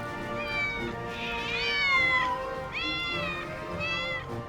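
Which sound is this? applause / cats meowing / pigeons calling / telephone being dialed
cats meowing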